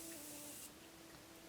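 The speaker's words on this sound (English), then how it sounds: "I'm gonna use this Jeffree Star times Morphe spray" A short, close hiss of Jeffree Star x Morphe strawberry setting spray misted onto a face, one burst lasting about half a second, then fading to a soft room hush.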